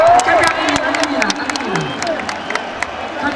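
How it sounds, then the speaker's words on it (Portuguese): An audience applauds and cheers for a performer named Thiago Salena, with a dense crowd clapping and sharp individual claps standing out over a loud, continuous wash of crowd noise and voices. "Thiago Salena, palmas pra ele"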